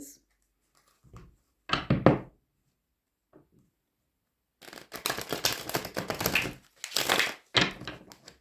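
Tarot cards are shuffled in bursts of dry riffling and rustling, some short and some long, separated by pauses of silence and heard close up.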